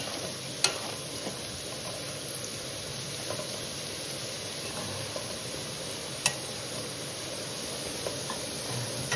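Potato and okra (bendakaya) frying in plenty of oil give a steady, moderate sizzle throughout, with a couple of brief sharp clicks from utensil contact and no voices.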